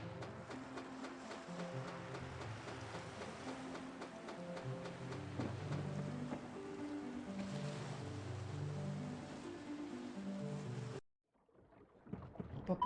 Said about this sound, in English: So I just like hearing the water in this place.